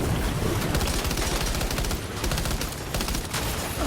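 Gunfire in the video game Death Stranding 2: rapid, dense bursts of automatic shots, loud and continuous, layered over a roaring, wash-like background for nearly four seconds without talk.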